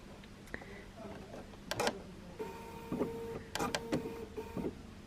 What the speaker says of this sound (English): sew for a little bit with lining up your fabric and your foot on this side.